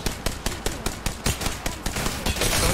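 Rapid automatic gunfire in the video game Apex Legends during a hot drop, a fast steady string of sharp loud shots that runs into denser overlapping fire near the end.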